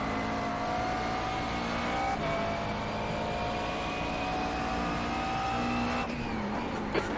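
Race car engines roar continuously in a racing video game, sustained high revving tones with gear-change shifts and a brief tire screech, steady and moderately loud with no talk.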